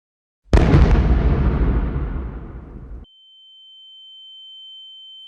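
A loud explosion sound effect plays during a Metro 2033 tabletop role-playing session, a sudden broadband blast at half a second with a long rumbling decay lasting about two and a half seconds, then cut off, followed by a thin steady high tone.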